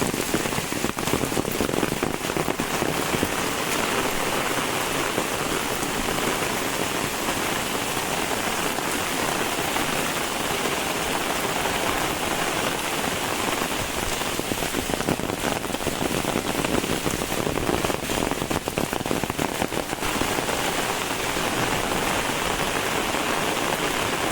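Heavy first-of-season rain falls over Kumbhavade village in Rajapur, Ratnagiri, in the Konkan, a loud, unbroken wash of drops pattering on surfaces throughout, with no one speaking.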